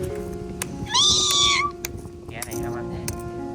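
A homeless kitten meows loudly once near a market, a rising, drawn-out cry amid scattered clicks and background noise, while people speak around it.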